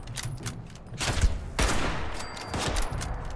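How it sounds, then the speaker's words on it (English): Gunfire in the Fallout 76 video game: loud, close bursts of rapid shots with sharp reports and booming impacts, sounding several times over a few seconds. "there's another one shooting at me as well."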